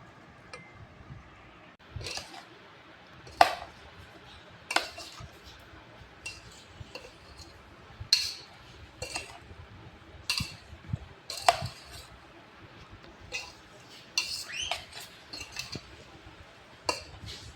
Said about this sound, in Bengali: এটাকে এবার ভালো করে কিছুক্ষণ মিক্সড করে নেব।